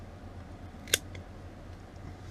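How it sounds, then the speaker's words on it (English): Scissors snip kiwi cuttings with a single crisp, close cut, followed by a faint second click, in a quiet garden setting. "all I'm going to do is give these a new trim"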